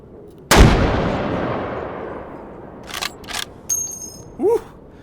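One loud rifle shot rings out in the H3VR shooting game, its crack decaying over a couple of seconds, followed by a few lighter clinks and a brief rising tone.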